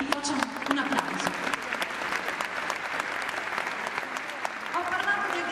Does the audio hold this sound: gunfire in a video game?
no